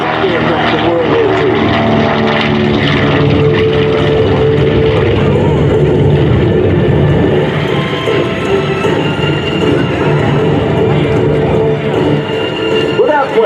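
A WWII medium bomber flies at an air show at Joint Base Andrews, its loud propeller engines droning steadily throughout while an announcer talks over the roar.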